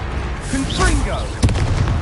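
A blasting spell explodes in a Harry Potter video game, a booming burst under a shouted voice and game chatter, followed by a sharper crack and thud a moment later.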